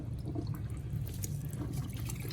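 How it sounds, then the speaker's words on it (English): Water gurgles and trickles steadily and quietly into the cavity of a whole turkey as it is lowered breast first into a brine bath, with a low, continuous wash and no talking. "You can hear the water filling in the cavity there."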